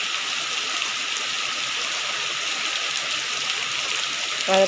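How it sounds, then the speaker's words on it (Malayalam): Steady heavy rain hisses continuously throughout, a dense even wash of sound with no pauses, heard during a bicycle ride. "നല്ല മഴ പെയ്തുകൊണ്ടിരിക്കുന്ന സമയമാണ് കേട്ടോ"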